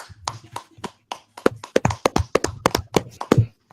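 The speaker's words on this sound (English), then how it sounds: "Clap it up." A few people on a small podcast set clapping for a guest, sharp uneven hand claps in quick irregular bursts, close and loud with brief gaps between them.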